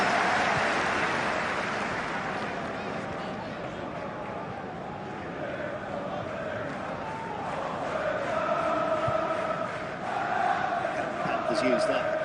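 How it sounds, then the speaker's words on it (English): A stadium crowd roars and cheers steadily at a Kenya versus Gabon international football match, a dense wash of voices swelling louder toward the end, with commentary faintly underneath. "And now the crowd are really getting into it as well."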